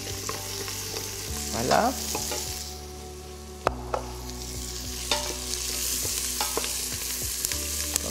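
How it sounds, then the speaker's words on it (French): Soup vegetables stir and sizzle in a cooking pot, with scraping and a few sharp clinks of a utensil against the pot and a short spoken word partway through. "Je vais mettre les légumes pour mon potage dedans."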